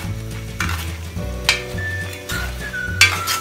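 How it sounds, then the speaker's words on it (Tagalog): Pork adobo caramelizes in a pan over medium heat, a soft steady sizzle broken by several scraping, knocking strokes of a utensil stirring against the pan, close up and with no talk. "Ngayon, ikakaramelize na natin yung adobo sa medium heat."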